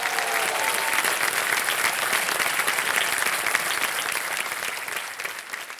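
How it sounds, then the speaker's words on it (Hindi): Sustained audience applause fills a TV quiz show studio, a dense clapping crowd that holds steady and then gradually fades a little at the end. "तालियां बज जाएं"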